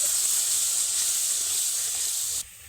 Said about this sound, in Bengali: এবার আমি সামান্য পরিমাণে জল দিয়ে দেবো